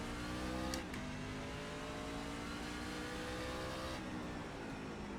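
Truck engine in the iRacing sim racing game, a C-Fixed truck at Martinsville, revs steadily with rising and falling pitch through gear changes, with a brief sharp downshift blip near the start, loud and close with no talk.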